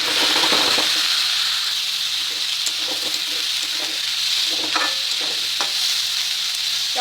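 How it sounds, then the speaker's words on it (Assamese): Rice frying in mustard oil in a pan for chicken biryani, heard as a bright, constant sizzle broken by scattered scraping and tapping as it is stirred, with no voices. "এই চাউলখিনি এতিয়া ফ্ৰাই কৰি ল'ম।"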